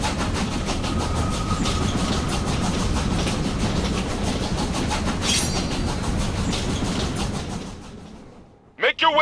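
A train in the video game Killer is Dead runs with a loud, continuous rumbling clatter and rhythmic clicking that holds steady before cutting out abruptly near the end, followed by a short burst of other sound.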